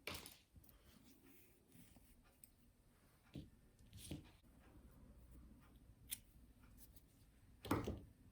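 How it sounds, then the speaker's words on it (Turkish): Scissors snip through a long strand of knitting yarn while making baby booties, with a few faint, sparse clicks and cuts over quiet handling noise and a sharper snip near the end. "Şöyle uzunca bir iplik keseceğim şimdi."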